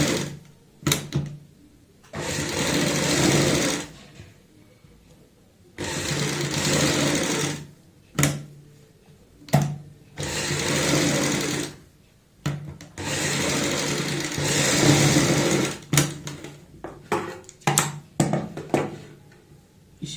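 Sewing machine stitching a kurti neckline, running in several bursts of a few seconds each with short pauses and handling noises between, close and steady, no talking.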